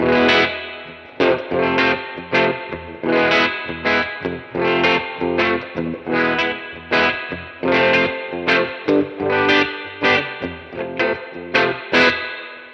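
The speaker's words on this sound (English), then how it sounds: "we've got the good old squelchy Fender spring reverb on there" An electric guitar played through a Fender Super 60 amp with spring reverb rings out in rhythmic strummed chords, each hit followed by a short decaying reverb tail, loud and alone.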